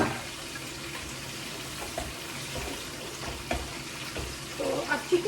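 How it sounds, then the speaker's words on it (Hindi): Chicken pieces go into masala frying in a home kitchen pan, giving a steady broad sizzle with small stirring clatters and a louder burst of spitting near the end. "चलिए चिकन मसाला से डाल देते हैं।"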